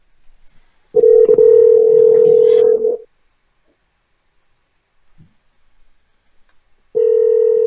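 Outgoing telephone call ringing on the line: two long, steady ringback tones about six seconds apart, the first lasting around two seconds and the second starting near the end, loud and clear with faint background clicks in the gap.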